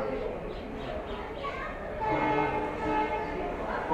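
A train stands at New Delhi railway station, its horn and rail noise carrying through a busy platform ambience with murmuring people nearby and a steady hum that swells slightly midway.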